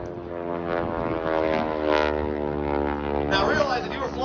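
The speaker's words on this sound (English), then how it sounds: "They bring the aircraft up, slam in full left rudder, brings that wing down like a hammerhead falling on down." Propeller aircraft flying a hammerhead aerobatic manoeuvre at an air show in Vanderhoof, BC, its engine droning loudly and steadily, the pitch shifting as it pulls up and turns, with a crowd's murmur beneath.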